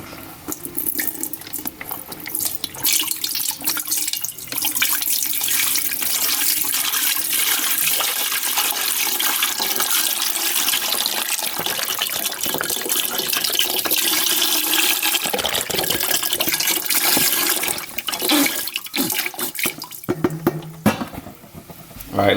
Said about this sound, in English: I got some beef broth, unsalted right here, that I'm gonna go ahead and put in my pot